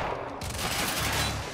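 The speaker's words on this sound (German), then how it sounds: "Also wird auf jeden Fall endlich mal schön viel rumgeballert" Dense, loud gunfire bursts from the shooter video game Quantum Break, a continuous barrage of rapid shots and impacts filling the moment, with no voice over it.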